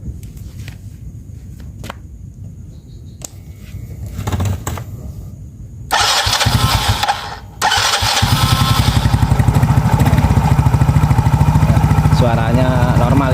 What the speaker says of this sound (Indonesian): di sini kita akan coba hidupkan ya.